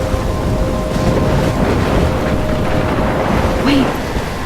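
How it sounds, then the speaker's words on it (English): Storm in the video game Life is Strange: a continuous roar of wind and rushing weather with low rumbling, steady and loud throughout, with a brief tonal whoosh near the end. "I'm trapped in a storm?"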